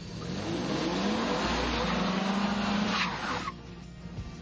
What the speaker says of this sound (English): And next, the four-wheel drive Toyota Tacoma.